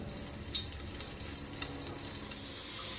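Water poured into a pot of cooking rice for a Haitian-style meal, a steady splashing, bubbling rush with small spiky sizzles throughout.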